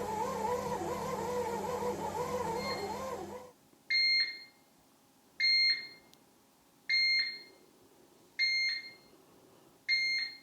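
Russell Hobbs 23620 Fast Bake bread maker signalling the end of its cycle with five evenly spaced double-tone beeps, clear and close, after a burst of louder broadband noise at the start.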